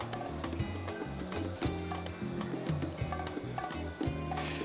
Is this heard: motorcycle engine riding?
no